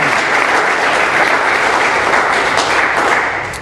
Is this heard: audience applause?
yes